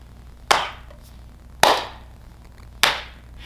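Three single hand claps, sharp and close, spaced about a second apart during a children's rhyme, each ringing briefly into a quiet room with no voices.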